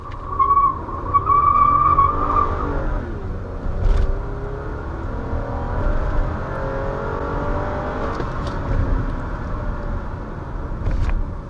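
A Toyota Camry with a V6 engine accelerating hard from a standstill, with a brief tire squeal at launch, then a loud sustained engine roar climbing through gears up to highway speed.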